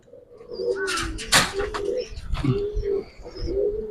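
Giribaz pigeons coo in a close, clear series of rolling calls with a few sharp chirps and a brief flutter, loud and near, with no talking.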